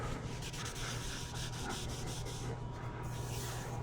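Steady rough rubbing of a sanding block scraping back and forth over metal tubing, continuous and close, with a low hum underneath and no talking.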